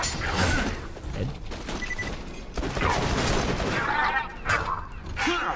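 Rapid gunfire from the kitchen gun in the video game Borderlands 2, with dense, continuous bursts of shots under game effects and a voice speaking over it.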